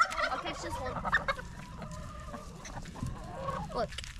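A free-ranging chicken clucks close by on a farm, giving a run of short, uneven clucks and squawks mixed with outdoor rustling.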